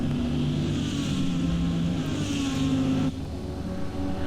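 Porsche race car driving at Monza, a steady loud engine drone with a sustained tone that shifts slightly before dropping in level near the end.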